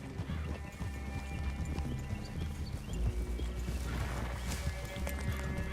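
Horses clop and snort nearby over a steady rumbling soundtrack in Red Dead Redemption 2, hooves thudding continuously throughout.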